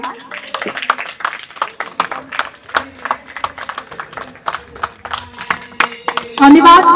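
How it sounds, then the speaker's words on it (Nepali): Audience clapping at a literature and culture trust's annual general assembly and poetry recital, with brisk, steady claps running throughout while voices murmur underneath. "सबैले ताली बजाइदिनु होला"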